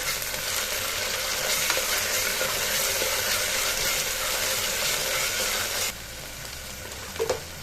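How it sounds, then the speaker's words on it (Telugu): Ginger garlic paste frying in a pan for tomato rice, a loud continuous sizzle with stirring that drops to a quieter fry near the end, capped by a couple of light taps. "అల్లం వెల్లుల్లిపాయ పేస్ట్ పచ్చివాసన పోయేదాకా వేయించుకోవాలి"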